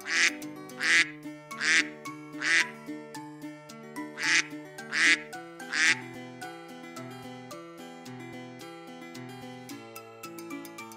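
Toy duck quacking in a run of six loud, evenly spaced quacks over the first six seconds, followed by a soft toy melody playing alone.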